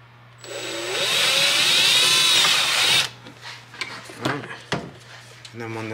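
Power drill boring a hole at an angle into the dash of a Polaris RZR Pro while mounting a radio, a loud steady whine lasting about three seconds, followed by short clatters and handling noises.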